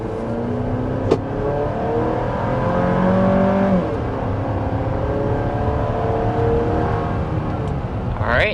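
A 2025 Chevy Traverse RS with a turbocharged four-cylinder accelerates to 65 mph, its engine note rising in pitch and then settling into steady road and wind noise, close and continuous.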